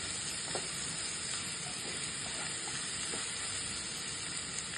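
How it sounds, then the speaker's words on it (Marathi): Ginger garlic paste fries in a pan for a vegetable bhaji, giving a soft, steady sizzle with faint stirring scrapes and no voices. "व्यवस्थित ते आलं लसणाचं पेस्ट परतून घ्या"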